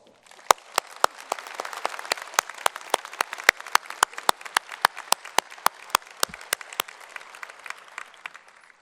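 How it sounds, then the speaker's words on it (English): Applause at a university winter commencement ceremony, heard as a single sharp, loud, evenly spaced clap repeating roughly every third of a second over a faint background of distant clapping. "Now, please join me in a real round of applause."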